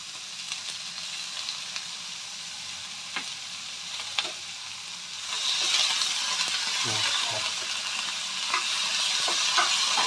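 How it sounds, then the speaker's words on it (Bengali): Potatoes salted and frying in a pan, a quiet sizzle with occasional spoon clicks that swells louder midway as stirring picks up, with scraping and clinks close by and no voices. "এবার দিয়ে এটাকে আমরা ভালো করে একটু ফ্রাই করে নেব"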